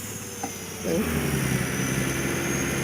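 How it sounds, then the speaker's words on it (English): A truck engine running while driving, a steady mid-pitched rumble that rises and grows louder after the first second, then holds at a constant drone. "I can hear the truck."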